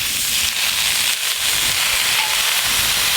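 Washed pumpkin flowers hit frying onions in a village kitchen pan, bursting into a loud, bright, continuous hissing sizzle close up, with a brief dip midway and no talking.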